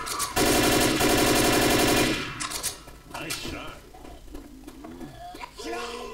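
Sustained automatic fire rattles loudly for about two seconds in a Left 4 Dead co-op match. The shooting then gives way to quieter game sounds with scattered clicks and tonal effects.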